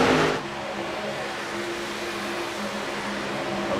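The number 52 race truck runs on a racetrack, its engine giving a steady, droning roar at middle distance after a brief louder burst at the start.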